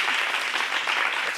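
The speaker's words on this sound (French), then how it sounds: "Vous pouvez vous applaudir aussi" Miss Pagne Côte d'Ivoire finalists receive a brief, loud burst of continuous clapping from a studio audience, dense and even throughout.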